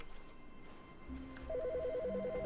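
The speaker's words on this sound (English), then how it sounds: "Wait, phone's ringing." A telephone rings inside the video game The Stanley Parable: Ultra Deluxe, a quiet electronic trill that starts about halfway through and repeats in a fast warbling pattern over a low background hum, with no talking.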